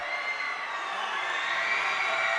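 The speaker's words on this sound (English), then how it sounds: "Crowd heats up." A high school basketball crowd cheering in the gym at a Clopton Hawks at Troy-Buchanan Trojans game: a steady, roaring wash of shouts and whoops that swells slightly, heard at a distance with no clear single voice.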